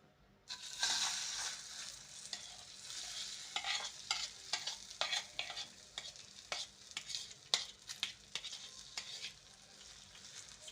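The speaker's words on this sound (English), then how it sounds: "So we'll heat our pan with some little oil, then add the mixture." Egg mixture for a Ugandan rolex poured into a lightly oiled hot pan, a soft sizzle with clattering, scraping spreading strokes and intermittent bursts, fairly faint with no talking.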